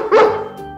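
A person's voice imitates a dog, giving one short, loud bark up close with nothing else around it, as part of an animal-noise guessing game in an online kids' lesson.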